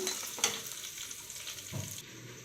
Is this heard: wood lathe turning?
no